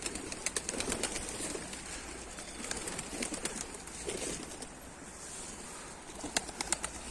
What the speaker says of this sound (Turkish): Ya kaç tane kuş indirdin oraya ya?